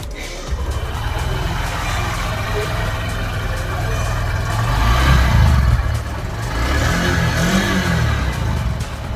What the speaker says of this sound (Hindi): दोस्त थोड़ा सुन लीजिए इस बाइक का एग्जॉस्ट साउंड।